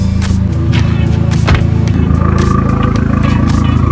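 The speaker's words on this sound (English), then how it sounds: "I'm going to give you guys a little bit of a rev" A salvaged Lexus engine idles with a steady low rumble, then briefly revs up before settling back, loud and close throughout.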